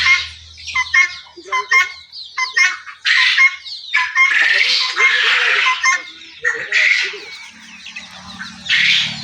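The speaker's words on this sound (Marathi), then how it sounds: "मी अंड्या कोंबड्या बदलून काढलेल्या आहेत" Egg-laying hens on a poultry farm squawk and cluck in repeated loud bursts, close by, with a low hum underneath and no talk.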